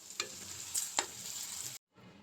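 Spices including masala, turmeric, cumin and coriander fry quietly in a pan with a soft steady sizzle and a couple of stirring scrapes, then the sound cuts out briefly before the sizzle returns.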